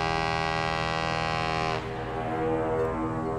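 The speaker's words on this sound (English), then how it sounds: "Three, water transportation such as ship." A ship's horn blares in a long, loud, deep tonal blast, then drops to a rougher lower tone for the remainder.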